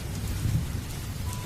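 Rain falls steadily at night with a low rumble of thunder beneath it, a dense, even wash of sound throughout the short stretch with no voices.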